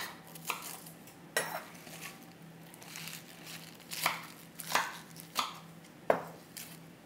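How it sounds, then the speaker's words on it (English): Spinach chopped with a knife on a cutting board for stuffed shells, giving a series of sharp, irregular thuds and crisp leafy cuts close by, spaced about a second apart, with a faint steady hum underneath and no talking. "You're just giving it a quick chop"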